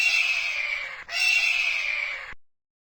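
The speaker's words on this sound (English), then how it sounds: "Eagle." An eagle gives a loud, sustained screeching call in two long drawn-out bursts with a brief break between, ending abruptly.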